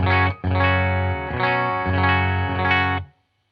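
Electric guitar on the bridge humbucker through a Boss OD-3 or Behringer OD-400 overdrive, a few strummed chords ringing with crunchy, driven tone, a brief gap before the second, then fading to silence.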